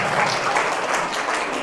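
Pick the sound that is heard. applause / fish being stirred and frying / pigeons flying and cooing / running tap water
applause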